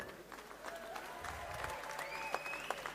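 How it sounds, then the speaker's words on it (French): Applause from a boxing-event crowd, a steady textured patter of clapping that holds through the whole stretch at moderate distance, with faint crowd murmur beneath. "Toutes les applaudissements pour Rocky Balboa."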